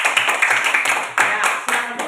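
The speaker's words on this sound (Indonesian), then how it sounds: "tepuk tangan buat kelompok 3" Classroom clapping for a student group, a few pairs of hands beating in an uneven rhythm, close and fairly loud, with some voices mixed in.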